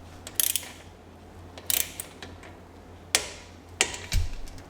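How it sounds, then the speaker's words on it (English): A torque wrench tightens a brake caliper bolt to 30 Nm during a wheel bearing job on an Audi Q7, VW Touareg or Porsche Cayenne: several sharp, separate ratcheting clicks, close and fairly loud over quiet background. "Then we need to torque this up 30 Newton meters"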